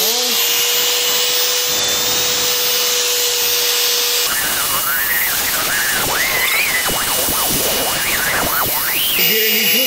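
A belt sander roars close and steady against a steel jaw from a standard jaw trap, its harsh grinding tone rising and dipping as the metal is pressed and worked along the belt.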